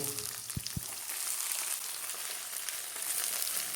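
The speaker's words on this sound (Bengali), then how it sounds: "হালকা সোনালি করে বেগুনগুলো ভেজে নিতে হবে।" Brinjal pieces fry in oil tempered with a dried red chilli and nigella seeds, making a soft, even hiss with two dull knocks near the start.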